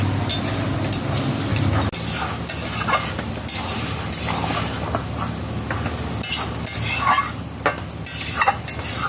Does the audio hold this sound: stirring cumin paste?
yes